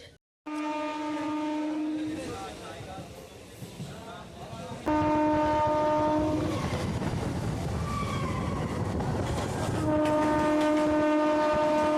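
A local train pulls into Bhogpur station, sounding loud, sustained horn blasts in three separate bursts over a rumbling rail-and-wagon background.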